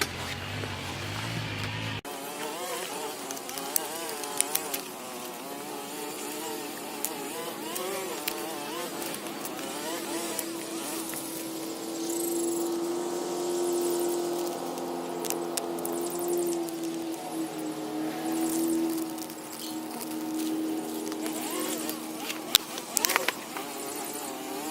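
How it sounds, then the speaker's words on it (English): A neighbor's yard work equipment drones in the background, a continuous buzzing, insect-like motor whine with wavering pitch that runs throughout at moderate level, some clicks and handling noises up close. "you can tell in the background my neighbor is doing his yard work"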